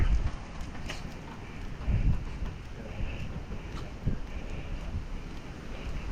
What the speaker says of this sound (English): It's raining, isn't it?